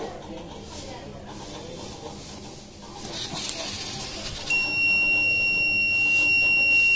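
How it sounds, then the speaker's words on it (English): A metal detector robot's electronic buzzer begins sounding partway through as metal is detected, a thin steady high tone that continues to the end over a faint background hum. "when the metal is detected the red lights glows and the green goes off and the buzzer starts buzzing"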